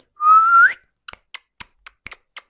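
A pet parrot being trained to talk gives one sustained, rising whistle up close, followed by a run of sharp, evenly spaced clicks.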